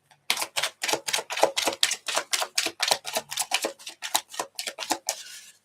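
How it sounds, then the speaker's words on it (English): A deck of tarot cards being shuffled up close: a quick, regular run of crisp papery snaps and taps, about four per second, continuing for several seconds before trailing off. "Okay, one more shuffle."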